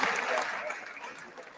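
A crowd at a Seattle Martin Luther King march and rally applauding, a dense wash of clapping and cheering that fades slightly over under two seconds while a voice carries over it.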